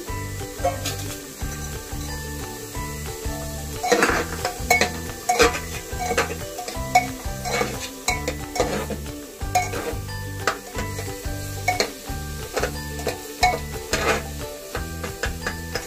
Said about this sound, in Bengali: এবার আমি দিয়ে দিচ্ছি বিনস কুচি।